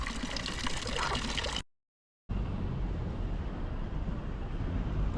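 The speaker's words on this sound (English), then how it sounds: "Ooh, and a lovely little water fountain." Small water fountain in Innsbruck, Austria, splashing steadily nearby as a continuous broadband wash of running water, broken by one brief silent gap before resuming at similar loudness.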